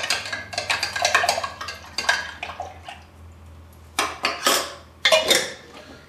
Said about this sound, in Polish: teraz całość intensywnie mieszamy